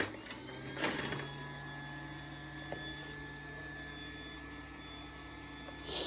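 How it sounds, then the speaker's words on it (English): A toy vacuum cleaner is switched on and left running, giving a steady close mechanical whine with constant tonal hum, a few small bumps and rattles near the start, and no talk over it. "Go and hoover it."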